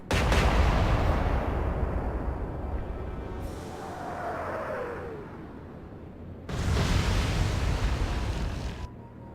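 Naval guns fire in the game Atlantic Fleet, with a loud, heavy boom that rumbles and decays over several seconds, a faint whistling tone in the middle, and then a second big blast near the end, with no talking.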